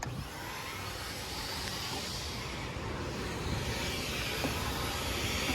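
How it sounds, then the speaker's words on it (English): A car wash vacuum cleaner at Tommy's Express Car Wash in Omaha, Nebraska runs with a steady, fairly quiet whooshing hiss that holds even for the whole stretch, with nothing else in front of it. "To operate the vacuum,"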